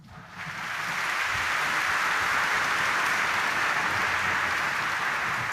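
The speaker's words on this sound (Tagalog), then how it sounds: "Kaya pwedeng pumalakpak ng mas malakas" A church congregation at a homily honoring Jesus Nazareno breaks into loud, sustained applause that swells in within the first half second and holds as a dense, even roar of clapping, with no voices over it.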